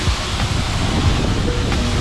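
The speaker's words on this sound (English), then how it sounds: "as I spray the water on" A garden hose sprays water onto the waxed body of a 2020 Dodge Challenger Scat Pack Widebody, giving a steady, close, broadband hiss of spray hitting paint with no talking.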